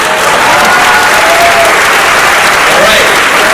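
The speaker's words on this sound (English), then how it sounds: "Those fights deserve another round of applause." A festival film Q&A audience applauds, loud, dense clapping filling the room throughout, with a few faint voices mixed beneath it.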